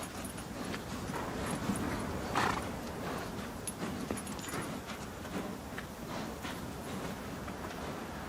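Horses walk at a steady pace on an open Mongolian track in a rhythmic, muffled clip-clop with a brief whinny, heard faintly at a moderate distance under wind-like noise.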